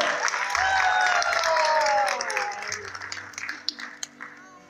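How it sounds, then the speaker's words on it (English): Audience applause for two brothers' performance at a Jubilee arts festival, dense crowd clapping under a loud announcer's voice and lingering musical tones, thinning into scattered individual claps toward the end. "a huge round of applause for these brothers!"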